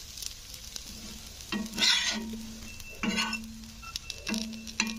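A dosa roasts on a pan with a quiet, continuous sizzle, while a utensil scrapes and stirs in repeated strokes with occasional light clinks of metal.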